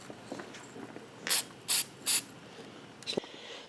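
Spray paint hisses from an aerosol can in three short, evenly spaced bursts, applied in light coats to a C6 Corvette door release, with quiet handling noises and a faint fourth puff afterward.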